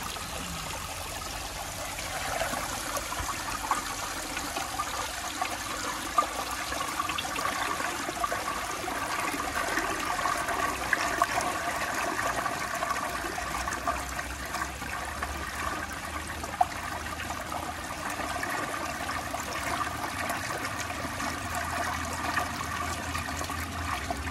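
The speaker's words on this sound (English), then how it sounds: "I'll flush it with these two socks and those two socks." Toilet flushing with an overfilled tank tops, a steady rushing and trickling water stream running loud and continuous for the whole stretch with no talking over it.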